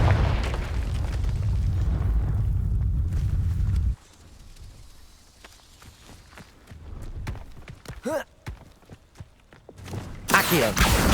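A Confringo blasting spell in Hogwarts Legacy goes off as a loud roaring explosion that fills the opening seconds, then dies into scattered clatter and lighter effects before another burst at the end.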